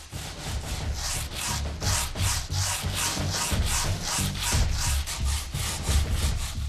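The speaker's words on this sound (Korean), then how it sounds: "잘 건조된 항아리는 거친 사포질에도 끄떡없다" Repeated rhythmic sanding strokes rasp back and forth over a lacquered paulownia wood jar, close and steady, about two strokes per second.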